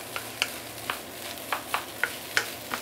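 Rice is stir-fried for char siew fried rice, a steady sizzle in a hot pan broken by regular scraping clacks of the spatula, close and fairly loud with no talking.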